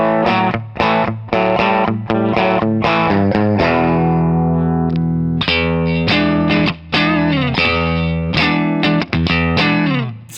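An electric guitar built from Temu parts plays through the bridge pickup with distortion, giving loud, gritty, chopped chords and riffs with short pauses, alone without talk.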